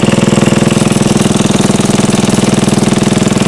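A 74-year-old Briggs and Stratton small engine runs steadily on a dyno, a loud, fast, even chugging pulse with a rough mechanical rattle, held at constant speed throughout with no voices.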